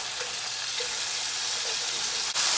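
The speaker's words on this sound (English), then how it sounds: "Tilting the skillet away from you kind of helps with all of the splattering." Chicken livers fry in a tilted skillet with a dense, steady hiss of sizzling and spattering oil that holds level throughout and swells slightly near the end, with no speech.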